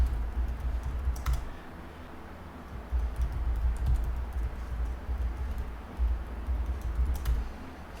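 Password being typed on a computer keyboard: a quiet, close run of irregular key clicks and taps with short pauses, no talking.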